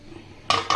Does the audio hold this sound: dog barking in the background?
no